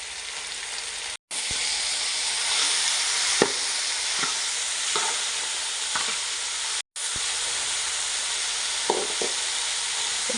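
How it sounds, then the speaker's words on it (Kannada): Diced carrot and potato with salt fry in a pan for Mangalore palav, a steady close broadband sizzle running throughout with scraping stirs and spoon knocks, broken by two brief silent cuts. "ಇದು ಚೆನ್ನಾಗಿ ಫ್ರೈ ಮಾಡುವ"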